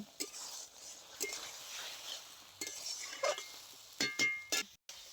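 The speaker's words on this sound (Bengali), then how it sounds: "মশলা দিয়ে আরো বেশ কিছুক্ষণ কষিয়ে নেব।" A spoon clinks and scrapes against a metal pan as whole chillies, cumin paste and turmeric are stirred and sautéed, giving intermittent sharp taps and scraping strokes over a quiet background, with a few short louder knocks near the end.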